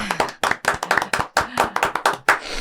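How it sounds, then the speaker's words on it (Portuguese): A small audience claps for a guest cardiologist arriving on a café-style podcast, a brief burst of uneven close handclaps from a few people, with no talking. "Uma salva de palmas."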